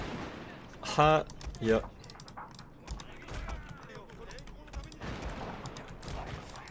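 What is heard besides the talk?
gunners firing in video game Total War: Shogun 2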